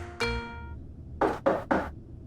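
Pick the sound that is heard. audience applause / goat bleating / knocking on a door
knocking on a door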